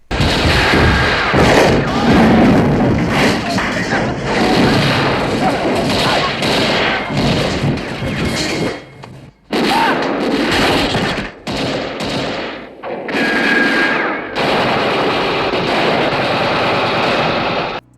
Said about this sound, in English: this film's got a really great gunfight